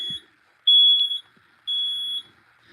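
A smoke alarm beeps in two long, loud, piercing tones separated by brief pauses, with faint background rustling.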